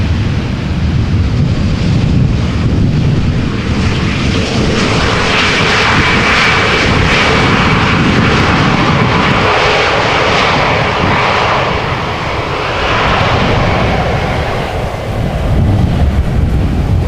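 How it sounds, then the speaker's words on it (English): EasyJet Airbus A320neo arriving at Amsterdam Schiphol Airport, a loud, continuous jet engine roar with wind buffeting the microphone, swelling and easing slightly as it passes near, with no talking. "EasyJet A320neo arriving from Jersey."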